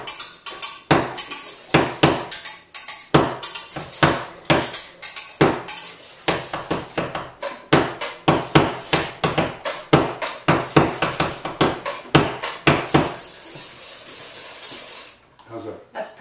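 Rapid metal whisk strokes against a bowl while mixing eggs for a flourless Mexican chocolate cake, a fast steady clatter running nearly throughout, close and loud, with brief pauses.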